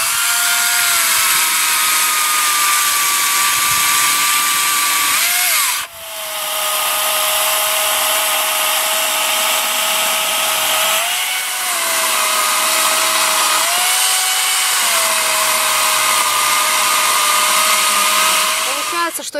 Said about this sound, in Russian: Пила готова к работе. Нажимаем красную кнопку слева и нажимаем.